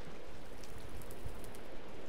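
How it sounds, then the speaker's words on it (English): Steady rain falls in a video game world, a constant soft hiss of drops with faint patter throughout, no voices over it. "It's raining, isn't it?"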